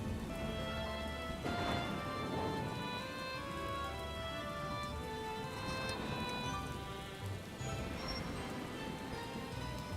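Rain falls steadily and fairly quietly, an even patter with no voices over it.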